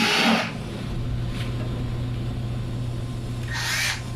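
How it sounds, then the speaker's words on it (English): A power drill with a sharp bit bores holes in a workpiece, its steady motor whine holding for several seconds, with brief louder bursts at the start and end of the cut. "then we just go through and drill a couple holes in this thing"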